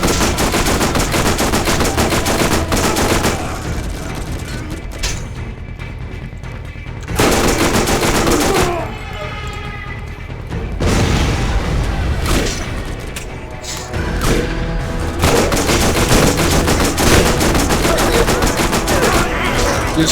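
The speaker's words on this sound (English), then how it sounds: "These corkscrew SMGs are actually fairly decent boss killers if they have a fast fire" Corkscrew SMG firing ricochet rounds in Borderlands, long rapid bursts of gunfire with brief gaps between volleys, loud and dense with booming impacts, no voices.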